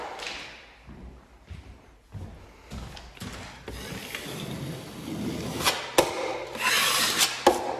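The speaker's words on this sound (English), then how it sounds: "Get the excess mud off of there." A drywall knife scrapes excess joint compound off a wall crack, a close sequence of rough rasping swipes and soft thuds, irregular strokes growing louder toward the end.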